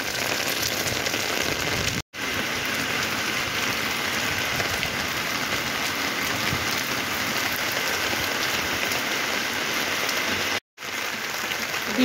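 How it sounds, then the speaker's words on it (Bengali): Heavy rain pours down on the city of Bardhaman, a dense, steady hiss of drops on surfaces, loud and continuous with two very brief dropouts, and no voices. "মুষলধারা বৃষ্টি প্রায় শুরু হতে চলেছে অল্প অল্প করে করে"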